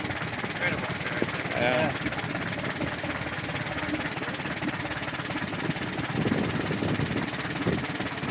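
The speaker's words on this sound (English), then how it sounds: "That motor's turning effortlessly." An old Oliver engine at a tractor show runs at about 400 to 500 RPM, a low, steady, rhythmic chugging that carries on throughout. People talk briefly over it.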